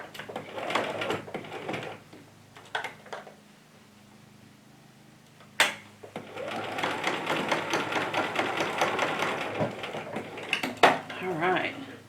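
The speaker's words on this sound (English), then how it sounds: "We're going to stitch off, and I'm going to just put this one right underneath and do the exact same thing" A sewing machine stitches an apron in two bursts of rapid mechanical whirring, one short and one longer, with quiet handling noises between them and a voice speaking over the stitching.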